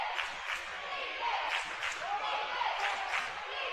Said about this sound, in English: You may hear the crowd below our broadcast position.